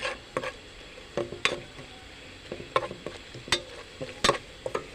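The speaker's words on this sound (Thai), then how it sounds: "ตั้งกะทิให้มันแตกนะ แตกมันแล้วเราก็เคี่ยวนะคะ เคี่ยว เคี่ยวน้ำพริก" Chili paste simmering in split coconut cream for a pork belly khilek curry, with irregular stirring scrapes and clinks of a utensil against the pot over a soft, steady bubbling sizzle.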